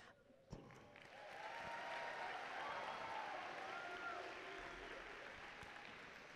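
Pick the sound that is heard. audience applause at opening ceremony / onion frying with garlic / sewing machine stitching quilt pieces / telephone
audience applause at opening ceremony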